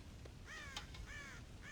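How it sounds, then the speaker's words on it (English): Crows raiding a farm silo for corn caw in a series of harsh, repeated calls at moderate distance, three main bursts over a low background rumble, with no talk. "God damn crows!"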